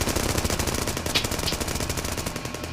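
Sustained rapid machine-gun fire during a documentary about the Fallen 44 commandos, loud dense bursts continuing without a break through the whole stretch.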